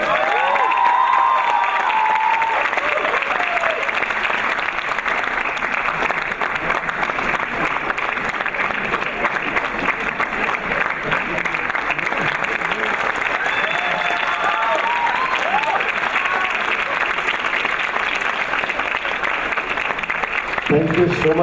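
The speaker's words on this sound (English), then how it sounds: "She deserves a round of applause." Sustained applause from a sizable audience at a university convocation ceremony fills the whole stretch, steady and full, with faint voices underneath and a little cheering.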